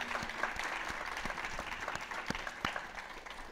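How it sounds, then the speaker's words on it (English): A book event audience gives the author of "All Boys Aren't Blue" a round of applause, a fairly quiet, even wash of clapping with a few sharper near claps standing out. "can we please give our author a round of applause?"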